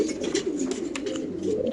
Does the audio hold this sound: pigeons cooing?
yes